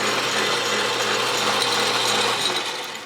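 Myford lathe with its carriage being engaged, a steady mechanical whirr of gears and a ratcheting drive running continuously and fairly loud at close range, easing off slightly at the end.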